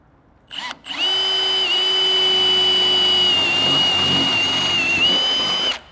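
A power drill with a 9.5mm bit whirs up and runs steadily at high pitch for several seconds, drilling an access hole for an Isuzu D-Max snorkel, close and loud, then winds down.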